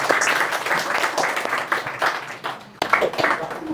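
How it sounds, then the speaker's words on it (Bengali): Audience applause for a student named Tanha at an academic coaching centre event, a dense burst of clapping that dips briefly near the end then resumes, close and moderately loud. "করতালি"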